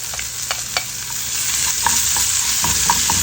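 Four cloves of garlic and ginger sautéing in hot oil in a pot, a steady close sizzle with occasional spoon stirs and scrapes, no talk.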